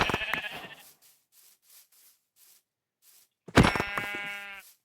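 Minecraft sheep bleating in the game world, a short cry at the start, then a long louder bleat near the end after quiet footstep-like clicks in between.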